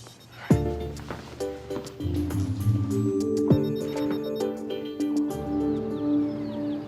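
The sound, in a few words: phone ringing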